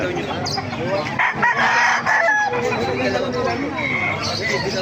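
Roosters crow loudly and chickens clucking nearby at a market in Calumpit, with someone talking over the birds throughout.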